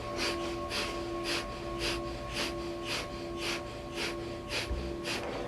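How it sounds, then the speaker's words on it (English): Rapid, rhythmic Breath of Fire breathing through the nose during a Kundalini yoga class, a steady train of about a dozen sharp, even pulses at close range, with no talking. "And this is a rapid inhale and exhale through the nose."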